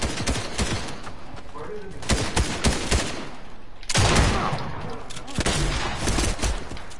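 Rapid bursts of machine pistol fire in Fortnite, loud and close, coming in several clustered volleys with short pauses between them and a heavier burst near the middle.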